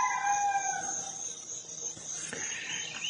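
A rooster crows loudly one morning from a short distance down the road, a long drawn-out call over quiet outdoor ambience, followed by fainter bird sounds.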